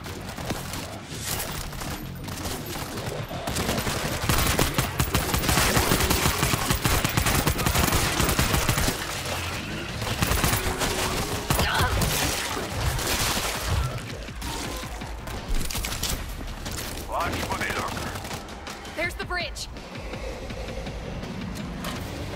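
Sustained gunfire in the zombie shooter World War Z Aftermath, with dense rapid automatic bursts and overlapping shots that stay loud and continuous throughout, easing slightly toward the end.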